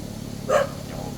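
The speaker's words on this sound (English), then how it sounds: "Dog." A single short dog bark rings out once at moderate distance over a low steady hum, during screen-panel repair work.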